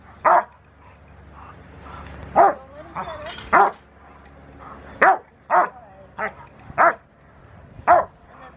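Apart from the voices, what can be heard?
puppy barking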